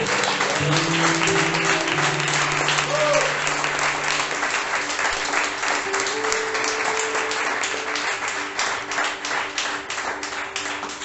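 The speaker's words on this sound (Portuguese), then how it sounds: "Você pode aplaudir o Senhor pela vida." A church congregation applauds in a dense, steady wash of clapping, with a sustained tone and faint voices underneath, fading slightly toward the end.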